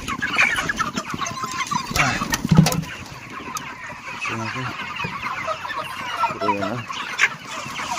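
Several chickens cluck around a feeding spot in a village yard, close and busy, with scattered clucks and short calls over low outdoor noise.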